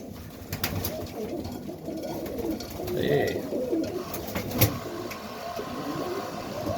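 Serbian highflyer pigeons coo softly in a breeding loft late at night, low murmuring calls repeating over a steady background, with one brief spoken word.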